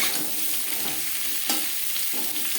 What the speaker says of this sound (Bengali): পেঁপের সাথে ডাটা দু তিন মিনিট নাড়াচাড়া করে নেওয়ার পর দিয়ে দেবো পটল